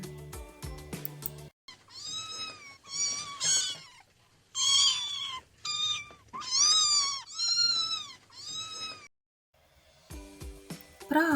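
Several cat meows in a row, clear and close, with short pauses between them, bracketed by brief chime-like tones at the start and end.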